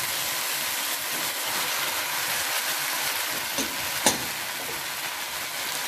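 Chopped tomatoes hit a hot frying pan in a dhaba-style paneer methi dish, giving a steady broadband sizzle with a brief sharper crackle near the end, close and continuous with no talking.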